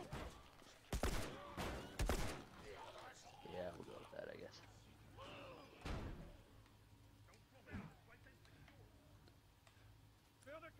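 Gunfire in the video game The Last of Us, several sharp shots early on over game sounds, followed by scattered fainter hits and movement noises as a voice talks intermittently.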